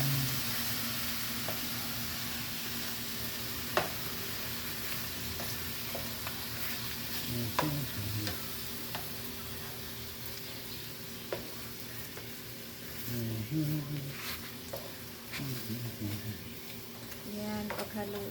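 Spaghetti being stirred into ragu sauce in a pan, with a steady frying sizzle and scraping stir strokes throughout, accented by occasional utensil taps, while a person talks over it at intervals.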